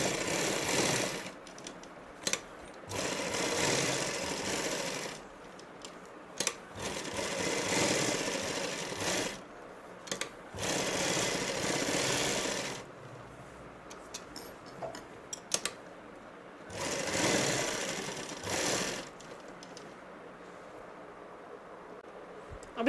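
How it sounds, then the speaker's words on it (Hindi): Sewing machine stitching cut work salwar fabric, bursts of rapid mechanical whirring and ticking that start and stop several times, close and fairly quiet. "एक सिलाई हो गई है, अब एक बार और मारते हैं इसी तरह सिलाई।"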